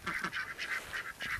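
Backyard ducks resting in the shade give a steady run of nasal, honking quacks, each call short and repeated at an even pace, moderately close.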